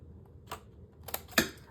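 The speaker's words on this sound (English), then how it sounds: "we're going to cut from that score line inward" Paper for a Stamperia Songs of the Sea mini album is cut along a score line, giving a few crisp, close snips spaced apart over near silence.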